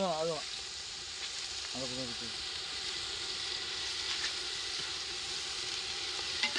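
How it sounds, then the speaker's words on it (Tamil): Onions sizzle steadily in hot oil as they are sautéed for biryani, a continuous broadband frying hiss with brief voices heard at the start and around two seconds. "வெங்காயம் நல்லா வதக்கலாம்."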